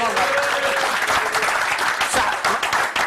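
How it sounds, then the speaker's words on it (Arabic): Studio audience applause on an Algerian sitcom set, a dense, steady clapping roar that fills the whole stretch, with faint voices mixed underneath. "صفقوا عليها كومان"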